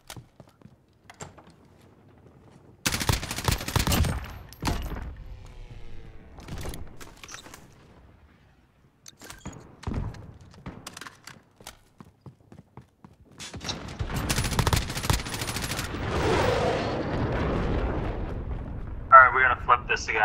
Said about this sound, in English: Nice, cruise missile.